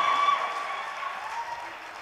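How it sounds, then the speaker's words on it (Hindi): Applause from a mushaira audience, a steady broadband clatter of many hands that stays fairly even and sustained throughout, with no voices over it. "एक बार जोरदार तालियां बजाइए"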